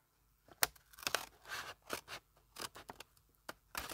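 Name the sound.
cutting paper with scissors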